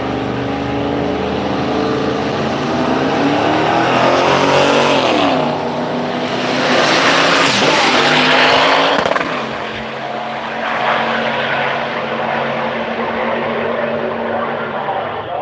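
At a street machine drag event, a Camaro makes a drag racing run down the track, its engine roaring loud and continuous, climbing in pitch through the gears before easing off as it fades.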